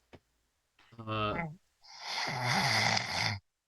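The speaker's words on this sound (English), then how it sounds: "Who is snoring over there?" A person snores loudly and close in two long rasping breaths, the second harsher and noisier than the first, with no speech.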